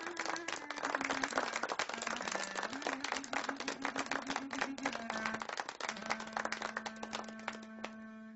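Audience applause welcoming a Turkish classical music diva to the stage, dense steady clapping throughout, with a sustained instrumental tone beneath it.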